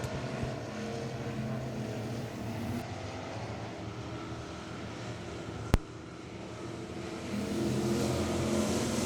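Thunder Bomber race cars circling Travelers Rest Speedway during a heat race, a continuous roar of engines at a steady distance with a single sharp click midway and the drone swelling again toward the end.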